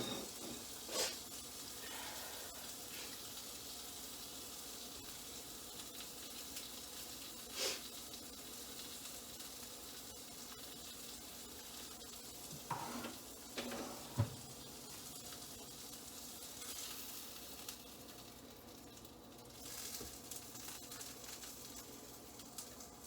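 Pieces of bread fry in a pan with a steady low sizzle, punctuated by a few brief clicks and knocks of handling, with no talking.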